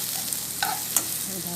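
Onions sizzling in a hot pan for a fried leftover rice dish: a steady close hiss of frying with a few brief clinks and scrapes of stirring, no talk.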